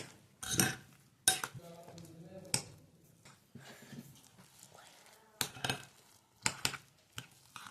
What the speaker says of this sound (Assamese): আলুখিনি নিমখখিনি দি ভালদৰে আলুখিনি মিক্স কৰিব লাগিব।